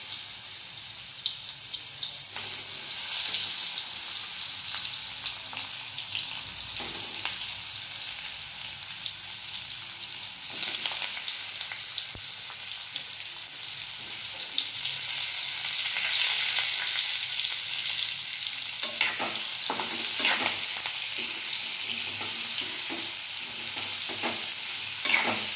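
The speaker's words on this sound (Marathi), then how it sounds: "आता त्याच्यामध्ये आधी दोडके सोडून घेऊया।" Ridge gourd frying in hot oil in a pan, a continuous hissing sizzle with intermittent stirring scrapes and clatters, close and fairly loud with no one speaking.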